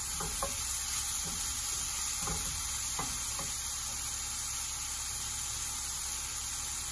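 Vegetable dish sizzling steadily in a pan, a continuous hiss with a few soft stirring scrapes near the start, fairly quiet and without talk.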